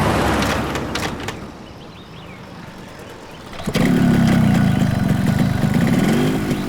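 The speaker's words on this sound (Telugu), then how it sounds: "బైక్ స్టార్ట్ అయింది, త్వరగా రా" A motorbike engine starts abruptly partway through, after a quieter stretch of background noise, then idles loud and close, steady until the end.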